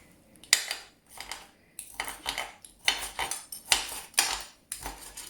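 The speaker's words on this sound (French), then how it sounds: "Donc on va commencer à couper en rondelles comme ça." A pizza cutter slicing vegetables into rounds, probably for a Moroccan salad from Taza: a series of close, crisp rolling cuts, each a short burst ending in a tap on the board, about six strokes in an uneven rhythm.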